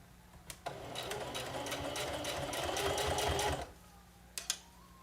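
A sewing machine stitches fabric for a romper in a steady, close burst of about three seconds, framed by a few clicks and handling knocks before and after.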